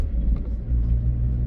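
A car rumbles steadily past close behind on a road, a low continuous engine drone with no speech over it.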